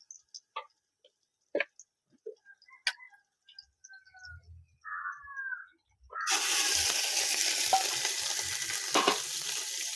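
After scattered clicks and taps, a loud steady sizzle of onions sautéing brown in a pan for mutton biryani starts suddenly and continues.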